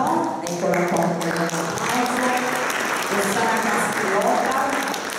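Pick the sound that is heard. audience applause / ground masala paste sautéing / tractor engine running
audience applause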